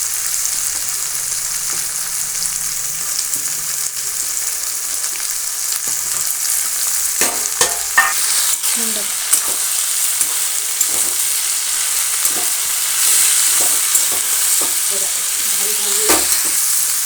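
Onion, carrot, tomato and eggplant frying in oil, a steady hiss of sizzling with scattered scraping and clinking as a spoon stirs the pan, close and fairly loud throughout.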